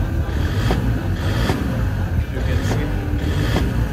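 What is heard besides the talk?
Toyota Land Cruiser Prado J90 1KD engine running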